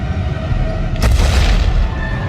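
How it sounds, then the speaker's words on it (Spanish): A deep rumbling boom of an earthquake swells suddenly over a low background roar, heavy and sustained, then fades back into continuous rumble. "De repente se oye un estruendo lejano. La tierra empieza a temblar."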